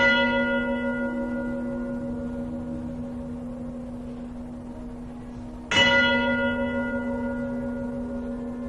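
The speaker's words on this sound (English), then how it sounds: "displayed when bells chimed within the structures." A large church bell struck twice, each deep strike ringing out with a long sustained hum that slowly fades, loud and alone.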